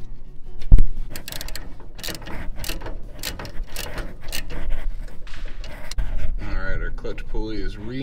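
Close, clattering metal clicks and ratcheting as a clutch pulley is fitted to a riding mower during a rear axle pulley swap, with uneven tool knocks and mechanical rattles in irregular bursts.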